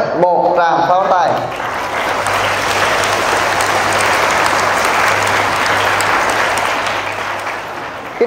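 Sustained applause from an audience at a Buddhist Dharma talk, loud and steady for several seconds after a brief spoken line at the start, fading slightly toward the end.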